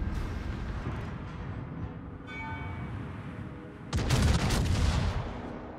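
Secondary guns firing from the Atlantico warship in a World of Warships-style naval game, a low rumbling barrage that builds into a heavy, loud salvo near the end.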